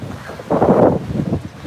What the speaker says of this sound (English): We've got rough and heavy surf. And it's pretty windy.